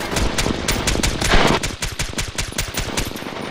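A machine gun fires in H-Hour: World's Elite, a loud, steady rapid burst of evenly spaced shots running nearly the whole time.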